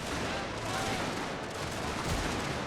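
Mortar fire in a Prussia strategy war game: dense, continuous battle noise of distant shelling and gunfire rumbling steadily throughout, with no clear single blasts standing out.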